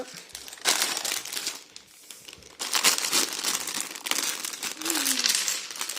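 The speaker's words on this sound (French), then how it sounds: "On va ouvrir les sacs." Plastic bags from a LEGO BrickHeadz Lord of the Rings set are torn open and handled close up, with several bursts of bright crinkling separated by short quiet pauses.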